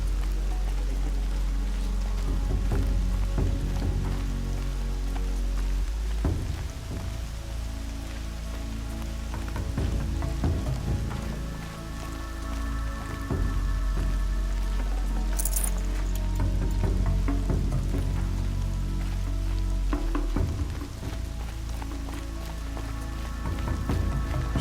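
Steady rain patters on a surface throughout in the video game Horizon Zero Dawn, with a low rumble underneath and occasional heavier splashes; no one speaks.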